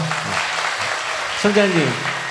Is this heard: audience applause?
yes